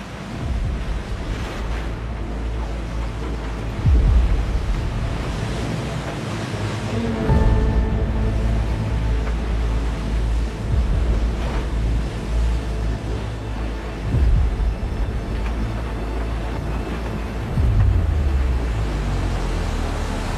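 Strong wind at sea roars across the microphone aboard a racing sailboat in the Vendée Globe while waves surge and wash steadily, loud and continuous with periodic swells.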